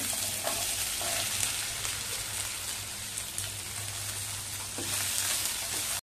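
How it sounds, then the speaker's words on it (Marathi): Okra sautéing in spiced oil, an even, rain-like sizzle holding steady for the whole stretch with a few faint stirring touches. "2-3 मिनिटं चांगली भेंडी मी परतवून घेतलेली आहे"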